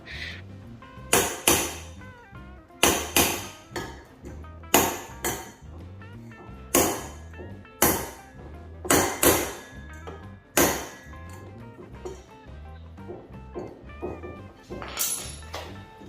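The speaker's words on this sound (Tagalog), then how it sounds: "So, dito tayo magpapako sa pinakagitna nito." A hammer drives a nail into the metal frame of a kids' table, about a dozen sharp ringing strikes in irregular pairs and singles, loud and close, with a faint background hum between blows.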